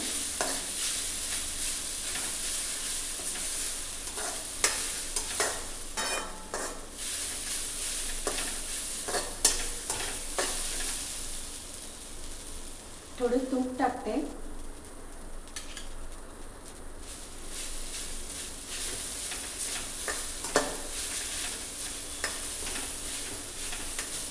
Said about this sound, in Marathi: मी ही तुपामध्ये छान गोल्डन रंगाची होईपर्यंत रताळी भाजून घेतलेली आहे